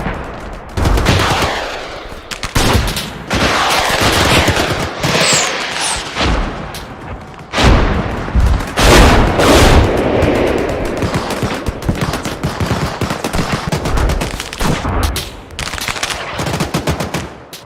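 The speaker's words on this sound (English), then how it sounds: "the sound of gunfire echoes, growing louder with every passing second" Battlefield gunfire in a war between Russian and Ukrainian forces, with bursts of rapid machine-gun fire, sharp single shots and heavy booms in uneven clusters, loud and close, separated by brief lulls.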